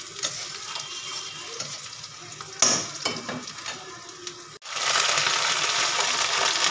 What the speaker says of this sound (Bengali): পেঁয়াজটা আর দুটো কাঁচা লঙ্কা দিয়েছি। দিয়ে এবার এটাকে ভালো করে ভাজা ভাজা করে নেব